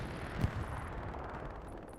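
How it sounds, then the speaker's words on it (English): Artillery explosions rumble through a Hell Let Loose battle, with one deep low thump standing out early and a continuous dull roar of distant blasts and noise filling the rest. "Explosions galore. Artillery is nasty on this match."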